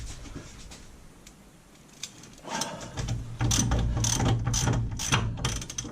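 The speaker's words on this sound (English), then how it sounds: "Put the 18mm socket on the nut. And away she comes." A ratchet with an 18mm socket works a nut loose on the steering and suspension of a Triumph Spitfire 1500, starting with quiet handling and then giving a series of close, rapid clicking pulls.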